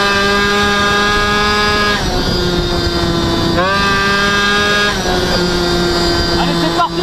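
A Peugeot 50cc TSR moped engine screams at full throttle on an American highway, a loud, steady high-pitched buzz with shifting harmonic tones that dip and recover as the revs change.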